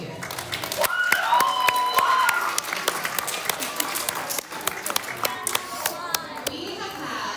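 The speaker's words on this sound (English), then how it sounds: "can you give a round of applause to your families for bringing you here?" Students at a summer academy assembly clap for their families, giving scattered, uneven applause of sharp individual claps, with children's voices chattering throughout.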